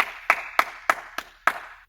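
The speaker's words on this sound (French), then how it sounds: "on peut s'applaudir super fort" Parents and young children clapping together during a Little Gym parent-child class: five sharp, near claps in an even rhythm, about a third of a second apart, in a quiet room without talk.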